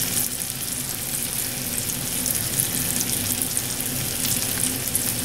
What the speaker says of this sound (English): this sizzling is just straight from this pan and being so hot